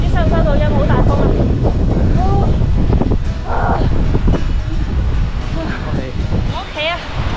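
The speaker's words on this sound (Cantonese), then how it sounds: "好大風啊！" Loud, steady wind buffets the microphone on a rainy Hong Kong Island hiking trail, a broad roar running throughout while people talk over it.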